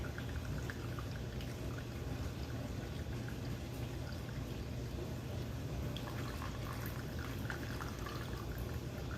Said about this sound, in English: Straining my coffee here, guys, showing y'all that I'm not doing no little flim flam trick here.